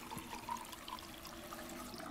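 In the video game Life Is Strange 2, water runs from a tap to fill a container. The stream pours quietly and continuously, with a few faint splashing glints and no talk.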